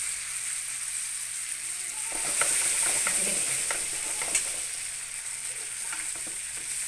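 Fish frying in a pan for a village-style fish curry sizzles steadily. The hiss swells louder as pieces are laid into the hot oil, and soft clinks and scraping follow, with no speech.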